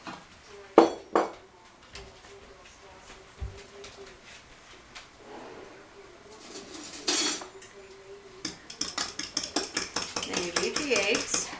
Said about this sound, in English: Then you beat the eggs.